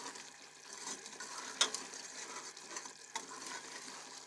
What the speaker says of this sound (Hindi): अभी चूल्हे की आग को हाई करके इसको हम यहाँ पे फ्राई करेंगे